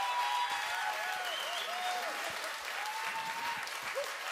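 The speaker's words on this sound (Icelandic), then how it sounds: "Gefum henni gott klapp!" Audience applause at an outdoor summer concert in Bíldudalur, steady broadband clapping throughout with a few cheers and whoops rising over it, fairly near and sustained.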